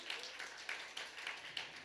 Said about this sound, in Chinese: 米粒你站起来，我们给米粒掌声，谢谢她。